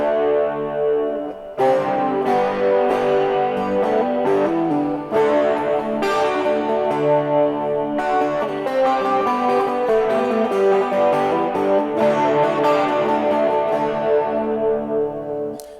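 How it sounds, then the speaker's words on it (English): A twelve-string guitar played through a tube screamer overdrive, chorus and spring reverb, ringing out in loud, shimmering chord strums and arpeggios with a few brief pauses between phrases. "I'll put the tube screamer, the chorus, and the Spring Reverb on"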